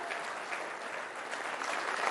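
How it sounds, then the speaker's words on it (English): Steady audience applause fills a summit hall as a physician is welcomed onto the stage, dense and continuous throughout. "A warm round of applause, guys, for the good doctor."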